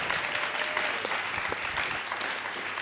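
Warm applause from a music conference audience for a panel, dense steady clapping from a crowd filling the room, sustained evenly throughout.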